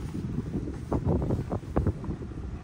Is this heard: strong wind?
yes